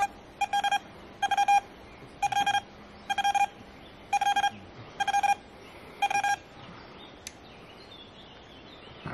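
A Vista X metal detector fires rapid signal beeps over deep silver and large objects, seven evenly spaced bursts of fast stuttering tones, loud and close, like machine-gun chatter, then quiet with a faint click.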